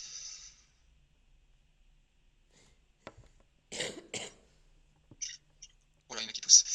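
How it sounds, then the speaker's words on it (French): Someone coughing indoors: a few short, fairly close coughs and throat clears in separate bursts after a near-silent stretch, with faint clicks between them. "il y en a qui toussent"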